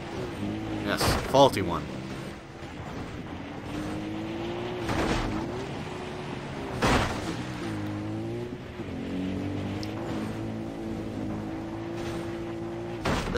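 Faulty ATV engine in Far Cry 3 revs unevenly with loud bursts and thumps, while someone talks over it throughout.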